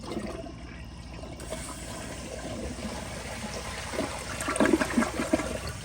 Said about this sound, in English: Alrighty, here's a flush.